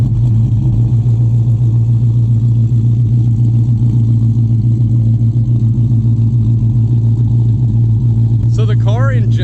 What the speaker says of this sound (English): one of the things they did bring back was the cam chop